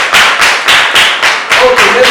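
A classroom claps in unison with loud, close, evenly spaced beats, about eight in two seconds, and a voice briefly joins near the end.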